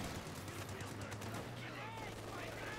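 SVT rifle gunfire in a video game, rapid bursts of shots cracking under a steady engine-like drone, with commentary talk running over the firing.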